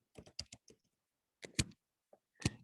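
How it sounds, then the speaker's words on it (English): Short bursts of keystrokes on a computer keyboard as code is typed in, a quick cluster of clicks followed by two isolated taps after a pause, close and fairly quiet with no talk. "I'm going to start typing it in."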